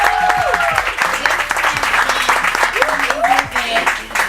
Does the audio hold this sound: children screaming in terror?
no